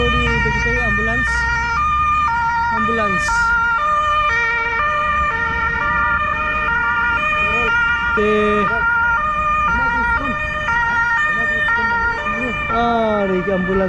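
An ambulance siren wails continuously in a steady, repeating rising and falling pattern, loud and close, with traffic rumbling underneath throughout.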